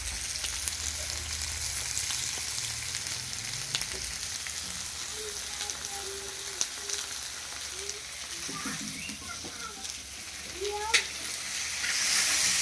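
Food frying in a pan for a home celebration meal, a steady broadband sizzle running throughout with occasional faint stirring clinks and some background voices.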